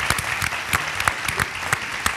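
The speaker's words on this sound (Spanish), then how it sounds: "un aplauso para ella, que se ha animado a preguntar." Audience applause at an interview event, a short burst of scattered, fairly sparse hand claps with distinct individual claps standing out, moderately loud and steady throughout.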